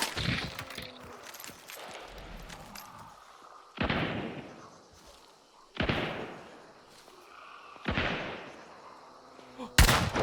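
Gunshots in Hunt: Showdown, four or five sharp, loud reports spaced roughly two seconds apart, each trailing into a rolling echo over quiet ambient background, with a final crack at the end.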